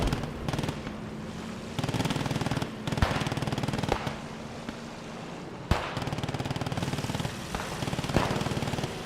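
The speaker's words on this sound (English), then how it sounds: "just machine guns on every axis right now" Sustained machine gun fire in the WWII shooter Squad 44, dense rapid bursts from several guns overlapping with sharp louder shots breaking through, continuous and close with no talk.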